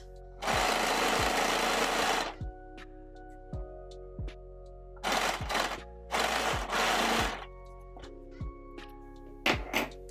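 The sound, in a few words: sewing machine sewing a straight line to attach pockets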